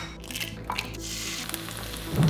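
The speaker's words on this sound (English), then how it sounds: "start frying some eggs" Eggs frying in a pan give a steady, soft sizzle that carries on without pause, with no voices over it.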